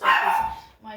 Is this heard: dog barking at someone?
yes